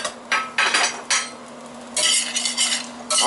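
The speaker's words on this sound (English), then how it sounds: "I'm just going to kind of brown them up a little bit." Sweet potato home fries with raw onions browning in a pan, with several bursts of scraping and stirring from a utensil over a quiet, steady sizzle.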